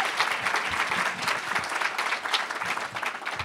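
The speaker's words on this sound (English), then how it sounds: "Another round of applause for Erica Allen" An audience at a philanthropy and community event applauds steadily for several seconds, a dense wash of many hands clapping at moderate volume with no voices standing out.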